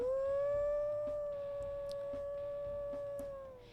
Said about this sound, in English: we'll listen to his howls